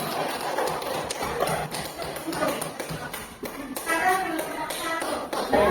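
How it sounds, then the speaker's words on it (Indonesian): Children clapping their hands in a classroom, a rapid, uneven patter of many small claps running throughout alongside some background voices. "Udah tepuk tangan dulu kalau iya,"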